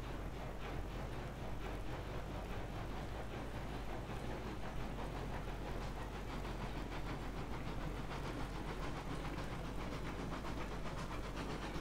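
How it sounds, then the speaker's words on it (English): Train running on rails in the railroad simulation game Railroads Online, a steady continuous rumble and rolling drone with faint clatter throughout, moderately quiet and unbroken, with no talk over it. "See if our train will make it around this corner."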